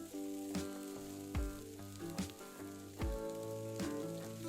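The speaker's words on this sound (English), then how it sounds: "We're going to fry this up. Stir it often because you don't want burnt garlic or ginger." Garlic and ginger fry in melted butter with a soft, steady sizzle. Several low thuds and a sustained tonal hum sit over the frying, and the whole sound stays quiet.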